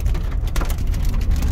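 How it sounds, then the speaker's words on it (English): Hail pelts a car at a gas stop in Colorado Springs during a storm, a dense, constant clatter of hard strikes on the body and roof that stays loud and close for the whole moment with no voices. "It's hailing. We thought it was rain."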